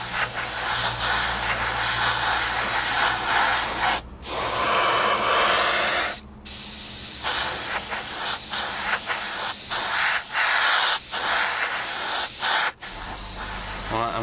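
An airbrush sprays a coat of paint onto a model panel, making a steady, loud close hiss that runs in long bursts broken by brief pauses, with no talking.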